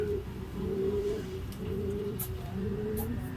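Racing pigeons coo in a loft, their low, repeated cooing phrases layered over one another at moderate distance, with a few faint higher chirps and no talking.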